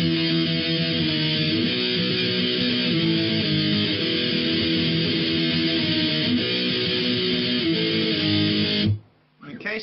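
An electric guitar plays the intro riff, with steady, thick chords ringing close and loud for about nine seconds before cutting off abruptly.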